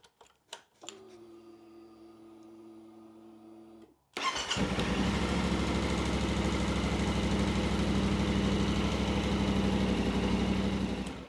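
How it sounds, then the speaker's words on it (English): A motorcycle fitted with a new Antigravity battery is started: a few clicks and a whirring electrical hum, then the engine catches and settles into a loud, steady, rumbling idle up close. "All that's left to do now is just start the bike and make sure everything works."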